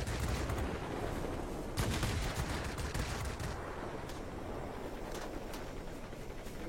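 Aircraft cannons in a video game firing short, rapid bursts, a dense rattling barrage of shots heard continuously at moderate level with no talking.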